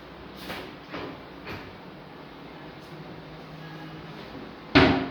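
MDF kitchen cupboard doors opening and closing in a newly fitted kitchen, a few soft thuds and clicks spaced about a second apart, then one sharper, louder close near the end, all fairly close against a quiet room background.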